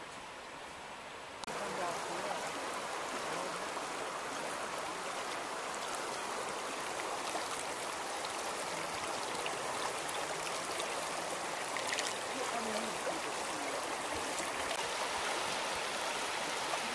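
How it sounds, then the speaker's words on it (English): A river flowing beside a garden in Columbia Falls, Montana, with a steady broadband rush of water close by after a short quieter start, continuous and even throughout. "So here's the river, here's the garden."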